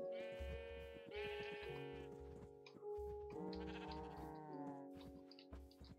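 Sheep in the Minecraft video game bleat several times in close, loud overlapping calls, with a low rhythmic thumping underneath and no speech.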